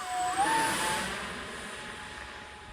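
An X-36 model jet aircraft passes in flight with a high whine that rises in pitch and then fades into a broad, steady rushing roar at moderate distance.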